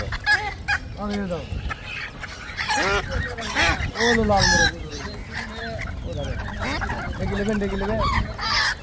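Chickens cluck and squawk repeatedly close by at a village market, mixed with a busy crowd of voices talking in the background.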